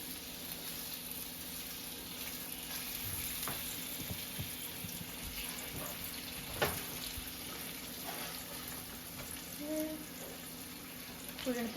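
Chicken thighs fry in a pan with a steady, close sizzle that runs throughout, broken by a few soft knocks and clatters; faint voices talk underneath.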